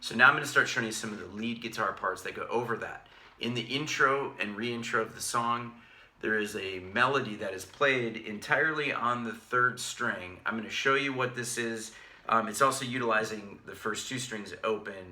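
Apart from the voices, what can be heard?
None of the usual background noises is heard.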